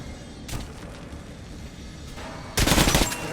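Weapons fire at a firing range in Metro Last Light: one shot lands early, then after a quieter gap a dense burst of rapid, loud gunfire erupts.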